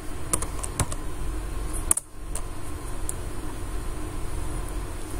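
Typing on a computer keyboard, with quick clusters of light key taps close by over a steady background hum.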